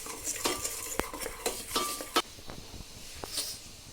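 Broken wheat roasts in a pan over a medium flame as a spoon stirs it continuously. Close scraping strokes come with metallic clinks against the pan and a soft dry sizzle underneath.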